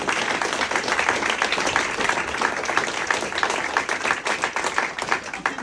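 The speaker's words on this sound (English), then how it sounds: "a round of applause for them as well" Audience applause at a club event honouring life presidents, a dense, sustained patter of many hands clapping close by, steady throughout with no speech over it.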